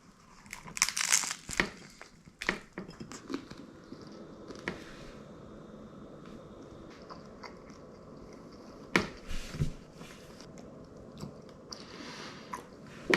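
Someone bites and chews a tortilla filled with noodles and Parmesan close up, giving crinkly, crunchy bites at irregular intervals with softer wet chewing and quiet pauses in between.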